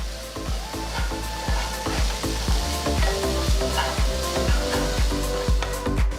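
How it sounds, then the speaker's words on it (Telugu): Fresh curry leaves, salt and onion sizzle in hot oil while a spoon stirs briskly, loud continuous frying with rapid rhythmic scraping strokes up close. "ఒక నిమిషం పాటు వేయించాలి ఇందులో ఫ్రెష్ కరివేపాకులు అర టీ స్పూన్ ఉప్పు వేసి ఒక్కసారి అంత బాగా కలపాలి"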